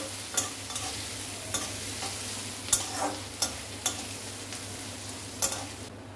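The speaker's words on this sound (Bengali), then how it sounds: "এর সাথে ভালো করে ভেজে নিচ্ছি।" Green chillies and crushed garlic fry in oil for chilli paneer, giving a steady close sizzle broken by sharp scraping stirs spread irregularly through the clip, with no talking.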